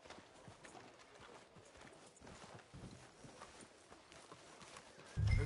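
Horse hooves clip-clopping at a walk in the Red Dead Redemption 2 video game, a quiet, steady rhythm of soft repeated hoof falls under faint background ambience.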